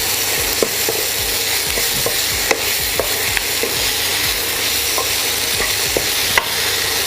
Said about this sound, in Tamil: இந்த உருளைக்கிழங்கு அந்த எண்ணெயோட கொஞ்சம் 2 நிமிஷம் அப்படி நல்லா பிரட்டிக்கோங்க.